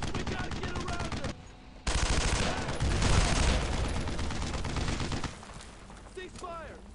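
Heavy gunfire from the World War II shooter Brothers in Arms: Road to Hill 30, a loud, dense crackle of machine-gun and rifle fire that drops off briefly, surges back even harder, then thins out toward the end.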